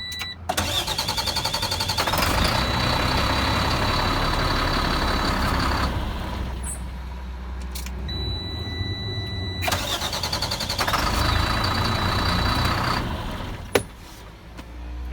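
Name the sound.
truck engine cranking over and starting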